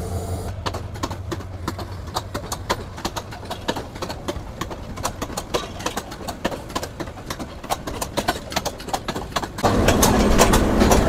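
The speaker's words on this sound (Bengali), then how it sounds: "দুপুর 12:27 আন্তনগর কুড়িগ্রাম এক্সপ্রেস ছেড়ে গেল মাদনগর রেলওয়ে স্টেশন" The intercity Kurigram Express pulls out of Madangar railway station, its wheels clacking in a steady rhythm over rail joints as the carriages roll past nearby, followed by a louder rumble at the end.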